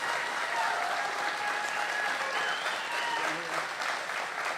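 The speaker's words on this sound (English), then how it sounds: "let's give them a big round of applause." A crowd at an outdoor political rally gives steady applause, an even wash of clapping with faint cheers and whistles running throughout at a moderate distance.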